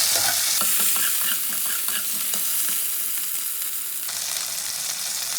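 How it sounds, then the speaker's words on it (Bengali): Chopped tomato goes into a hot tempering of black cumin and chili, setting off a loud, continuous sizzle with scattered crackles and stirring scrapes that eases slightly toward the end. "ফোড়নটা ভেজে নিয়ে প্রথমে আমি টমেটো কুচিটা দিয়ে দেবো।"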